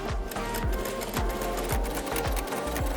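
Sewing machine stitching across the seam line of a robe collar for a Sideshow BTS Deluxe statue costume, a loud steady whir with a regular repeating thump of the needle, close and continuous.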